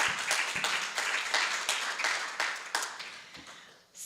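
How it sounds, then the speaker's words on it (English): Audience applause at a church annual meeting after a musical performance, dense sustained clapping from a crowd that gradually thins and fades out near the end. "Let's give them another round of applause for that."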